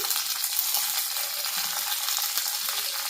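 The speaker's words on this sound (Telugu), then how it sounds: "ఇదండి పన్నీరు పుట్నాలు ఫ్రై అవుతున్నాయి కదా" Roasted gram frying in a pan for hotel-style onion karam dosa gives a dense, steady sizzle close by, with faint stirring and no voices.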